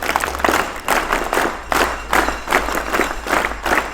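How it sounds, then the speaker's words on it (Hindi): Loud, continuous clapping from a school audience gathered to welcome a guest, dense and steady with rhythmic swells throughout and no talking. "इनका जोरदार तालियों के साथ।"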